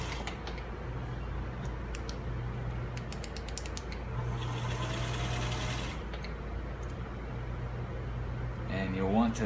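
The motor of a sewing machine hums steadily after a belt adjustment, with a low continuous drone and a higher whirring stretch at mid speed, plus some faint clicking, as someone speaks over it.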